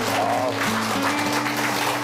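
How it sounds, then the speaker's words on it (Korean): Applause from a crowd, steady clapping that fills the space, with a faint hum underneath. "다시 한번 큰 박수 부탁드리도록 하겠습니다"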